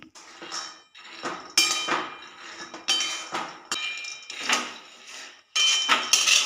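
Peanuts roasting in a pan, giving a steady run of close metallic scrapes, clinks and rattles as the nuts are tossed and stirred against the metal, with short pauses between bursts.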